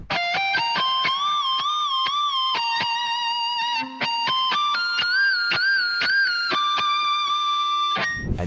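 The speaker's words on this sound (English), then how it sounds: "the fourth one is just playing a pitched up version of the original main melody" A pitched-up, high synth lead plays the original main melody, with bright, clean tones, sliding notes and crisp rhythmic plucks, loud and alone, with no voices.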